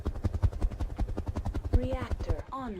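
Choppers in the RogueTech video game beat with a steady rapid rotor thump, fairly close and loud, while a voice talks over the rotor noise toward the end.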